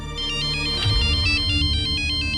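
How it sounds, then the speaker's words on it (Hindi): A melodic mobile phone ringtone repeats its electronic tune over a low steady hum, with a brief thump partway through, loud and close in an indoor domestic scene. "फिर से फोन आ रहा है"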